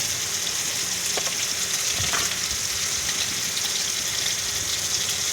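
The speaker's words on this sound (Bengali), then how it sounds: "লাল লাল করে চিংড়ি মাছ ভাজা হয়ে যাচ্ছে" Salted, turmeric-coated prawns fry in oil with a constant close hiss, dotted with a few crackles and the light scrape of a spatula, and no one speaking.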